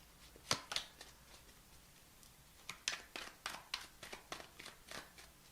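Tarot cards being shuffled by hand, a few crisp riffles early on, a pause, then a run of quick, fairly close snaps and flutters, quiet and alone with no talk.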